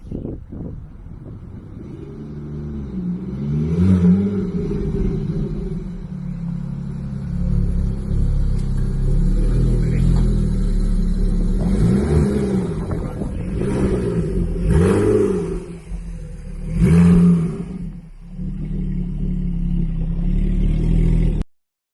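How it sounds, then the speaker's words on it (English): A Porsche 911 GTS engine revs repeatedly while the car is driven around the block, loud and close with rising and falling pulls, gear changes and wind buffeting across the microphone. "car running. I took it for a quick blast around the block."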